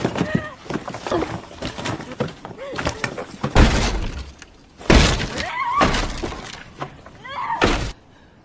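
A stone shrine crammed with dolls is smashed with a crowbar. Sharp cracks, thuds and shattering crashes hit in irregular bursts, loud and close, while a voice speaks over the destruction.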